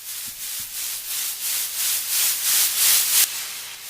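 Synthesizer sweep effect made with the Sylenth1 soft synth: a bright hissing noise pulsing in a rhythmic series of swells that grow louder and brighter before cutting off, close and alone.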